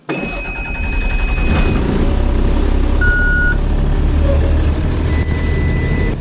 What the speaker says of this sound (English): And we'll start the bus up.